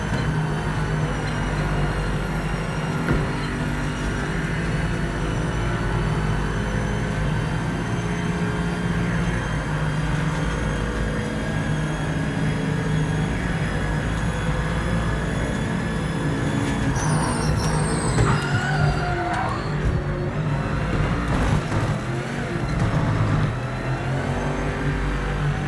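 A loud, steady racing car engine drone from a video game fills the whole stretch, rising in pitch and roaring harder near the end as it accelerates, with no voices.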